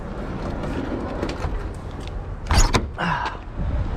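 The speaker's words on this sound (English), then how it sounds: "Man, that door's heavy." An enclosed car trailer's heavy door is shifted and swung, giving a muffled clunk and a couple of sharp metallic bangs midway, with scraping and rattling around them outdoors.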